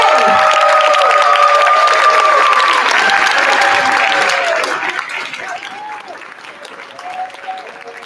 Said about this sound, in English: Let's start the clapping